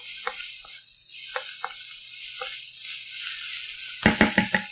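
Radish kimchi fried rice ingredients fry in a hot pan with spring onion, a steady loud sizzle broken by occasional scraping stirs and a quick cluster of clattering hits at the end.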